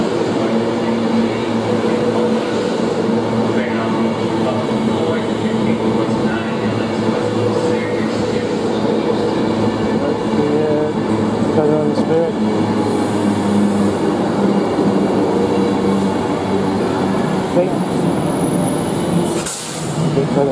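Avanti West Coast passenger train approaching a station platform, a loud continuous rumble and rolling drone throughout, with a brief high squeal near the end and voices murmuring beneath.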